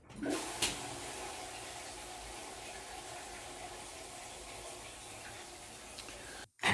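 Toilet flush sound effect, a sustained rushing gurgle of water that runs for several seconds and cuts off abruptly near the end, loud and close.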